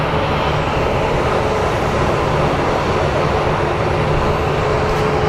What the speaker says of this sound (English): American Airlines 1265. It's an A319 coming out of Santa Barbara